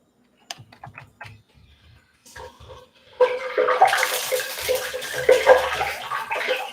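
Homemade spring rolls lowered in a basket into hot frying oil: a few soft clicks, then a sudden loud, dense, steady sizzle of bubbling that fills the rest of the clip.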